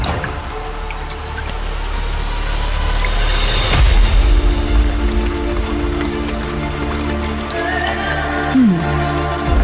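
Steady rain falls and drips close by for the whole stretch, with a dull thud around the middle and faint tonal sounds later.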